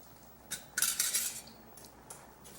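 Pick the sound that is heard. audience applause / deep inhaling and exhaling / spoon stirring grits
spoon stirring grits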